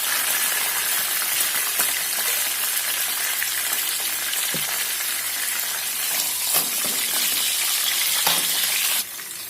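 Frying fish in a wok gives a steady broadband sizzle of hot oil, close and constant, with a few small clinks and pops and no talking.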